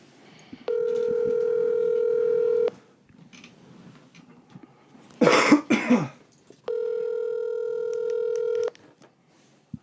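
Two long, steady electronic ringback tones from an outgoing phone call, each about two seconds, separated by a gap with coughing and throat clearing, set against a quiet room.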